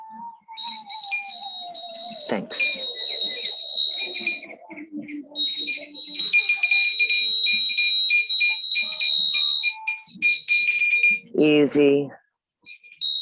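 A phone alarm or ringtone sounds in a room, steady high electronic tones running for several seconds, then a brief burst of rapid repeated beeps near the end, with a person speaking softly over it.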